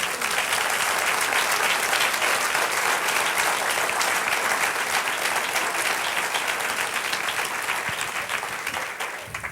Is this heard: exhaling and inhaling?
no